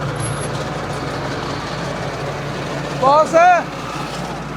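A 60 HP tractor pulling a super seeder crawls along in creeper gear, its engine giving a steady, close low drone throughout, while a voice cuts in briefly near the end.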